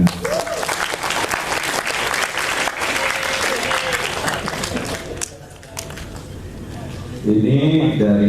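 An audience at a literary talk applauds, a dense, loud wash of clapping that fades after about five seconds, then a voice begins speaking.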